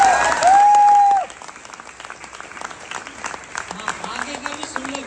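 An audience in a large auditorium hall claps together, a sustained wash of applause that carries on steadily under an electronic tone early on, with the crowd noise continuing throughout.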